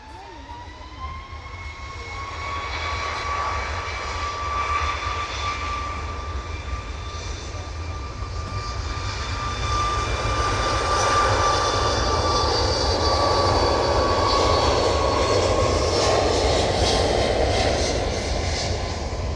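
A passenger aircraft landing on runway 09 at East Midlands Airport, its engine roar steady and loud and swelling further as it rolls down the runway, with a sustained whine over the rumble.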